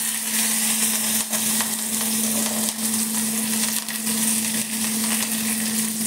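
Green chilies and cumin seeds crackle in hot oil over a lowered flame, a steady close sizzle with a constant hum beneath it, no voices.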